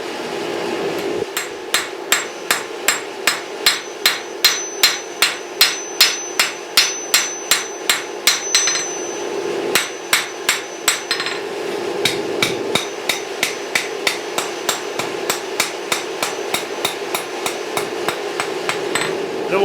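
Hammer forging and thinning the spine of a knife made from a railroad spike, a long run of sharp ringing blows in steady rhythm, close and loud, with a brief pause before the strikes resume even faster.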